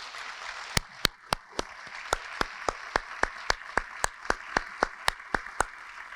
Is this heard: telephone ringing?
no